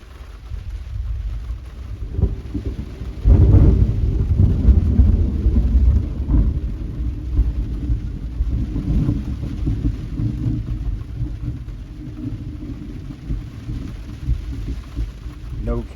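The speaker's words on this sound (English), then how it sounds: "No cable TV needed when you got the rain and the lightning and the thunder." Steady rain falls at Rockport Beach while thunder rolls in, a deep rumble swelling a few seconds in and slowly fading beneath the constant patter of rain.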